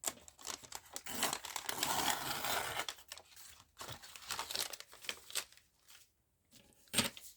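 Close, busy crinkling of packaging tape paper being handled, a dense crackle swelling and fading through several seconds, ending in a final sharp rustle, with no voices.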